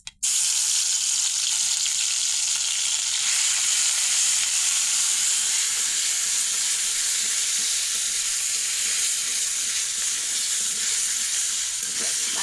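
Ground spice paste frying in oil in a wok, a loud, steady broadband sizzle that starts abruptly and continues unbroken, with no talking.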